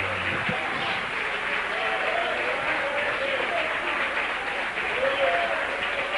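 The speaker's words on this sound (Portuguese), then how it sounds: "Receba essa aplauso, Jesus, que é para ti essa noite." Church congregation at a night worship service applauds for Jesus, a continuous wash of clapping at moderate volume filling the stretch, with voices mixed in underneath.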